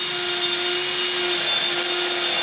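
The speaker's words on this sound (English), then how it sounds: "you want to drill a 3/16 pilot hole" A power drill bores a 3/16-inch pilot hole for a garage wall storage bracket, a steady high whirring whine held close and loud for a couple of seconds without speech.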